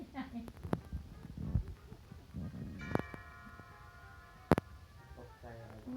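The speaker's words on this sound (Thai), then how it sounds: "สั่นกระดิ่งนะคะ" In a Tom and Jerry cartoon, a bell rings with bright, sustained chiming strikes partway through. Cartoon voices and sound effects run around and over it.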